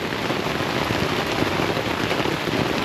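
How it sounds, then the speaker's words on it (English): Steady rain pattering on a tent on a rainy day in Los Angeles, a dense, continuous hiss of close drops with no gaps and no voices. "Just watching the raindrops keep falling on my tent."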